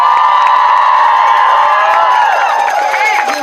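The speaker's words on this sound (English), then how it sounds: "So let's all give them a big round of applause." A crowd at a youth trans rights rally in Frankfort, Kentucky cheers loudly up close, with whoops and high shouted voices rising and falling over scattered clapping.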